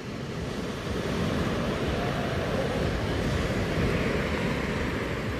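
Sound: sea waves and wind

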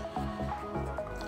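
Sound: oil sprayer spraying oil into air fryer

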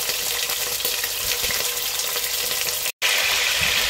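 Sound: pork ribs frying in olive oil in a pot

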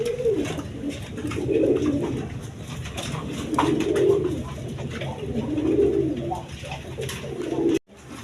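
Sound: red Danish pigeons cooing

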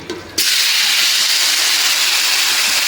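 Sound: taro sizzling in hot oil in a wok

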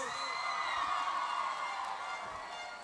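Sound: applause for graduates

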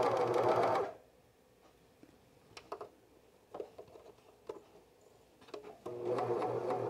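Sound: cover stitch sewing machine running

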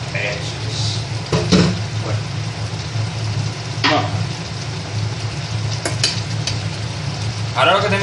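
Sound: chicken juices sizzling in frying pan with garlic chicken

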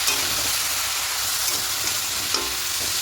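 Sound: ginger and green chilli paste sautéing in pan

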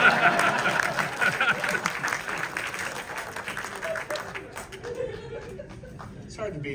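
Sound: audience applause at a screening

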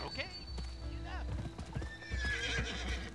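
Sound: horse hooves and neighing in the video game Gun

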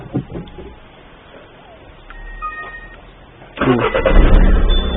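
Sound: car engine starting

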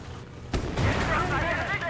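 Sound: artillery and gunfire in video game Gates of Hell: Ostfront

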